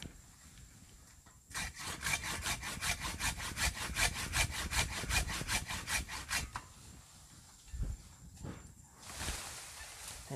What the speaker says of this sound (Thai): นี่ครับยืดสูงๆกับเลื่อยลงมาเลยครับ